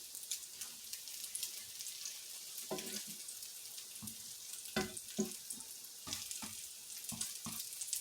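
Filipino ground beef omelettes frying in a pan, two or three at a time: a quiet steady sizzle broken by soft scrapes and clatters as they are nudged and turned, no talking.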